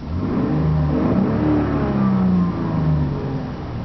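A 2008 Lexus IS 250 V6 engine revs hard to the rev limiter and holds high, a loud steady mechanical roar that climbs and wavers near the top of its range.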